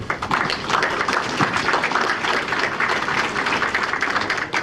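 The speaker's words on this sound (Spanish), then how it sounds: "Un fuerte aplauso, por favor." An audience claps loudly and continuously at a public event held by the Puebla city government, producing a dense, even wash of applause that lasts several seconds.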